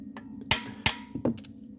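A few sharp knocks, spaced irregularly, with a steady low hum behind them; short plastic mallet taps on a trumpet's brass valve casing.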